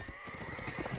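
A horse neighs in a video game match during a chaotic mounted melee, a short whinny set against steady clip-clop hoofbeats and busy battle noise.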